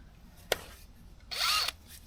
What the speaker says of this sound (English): So I'm going to go backwards with this drill bit to mark my holes.